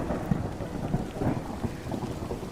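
Steady rain pours down with several low rumbling thunder swells through the storm, a dense continuous wash at moderate level with no voices.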